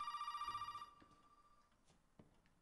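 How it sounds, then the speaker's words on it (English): An old-style telephone bell rings in Resident Evil 7, a rapid trilling ring for under a second, then stops, leaving faint ambient sounds and a soft thud. "I never like it when a game suddenly gives me a phone call in the middle of nowhere"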